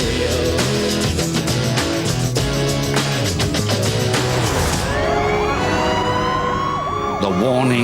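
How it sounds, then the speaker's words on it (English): A warning siren from a television broadcast before an AFL football game rises in a loud, slow wail out of a dense music-and-sound bed, steadily climbing and holding over the final few seconds. "The warning siren sounds."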